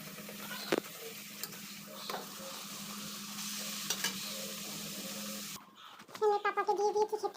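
Puri frying in hot oil makes a dense, steady sizzle with a few utensil taps, ending abruptly before a brief voice is heard.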